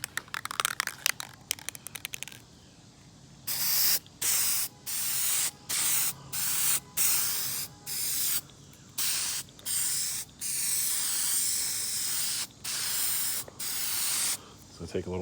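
Rapid clicks, then a long series of loud aerosol spray bursts of Plasti Dip rubber coating onto a car roof, hissing on and off in short and longer pulses close by.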